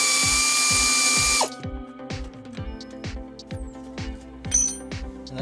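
An air ratchet spins loose the top nut of a shock absorber on a 1984-95 Toyota pickup truck: a loud burst of whirring for just over a second, then rapid rhythmic clicking ratchets on, steady and close.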